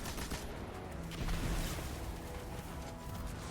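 Faint bursts of weapon fire in Destiny 2, a quiet, continuous rattle of shots with a slightly stronger burst partway through, no voices.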